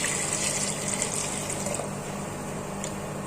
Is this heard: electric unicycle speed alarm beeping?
no